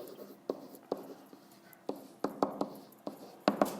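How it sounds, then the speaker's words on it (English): Handwriting during a math lesson on graphing polynomial functions, with a series of sharp tapping and scratching strokes of a pen or marker at irregular intervals, close and fairly quiet, alone without talk. "I'm going to write down end behavior and write that down."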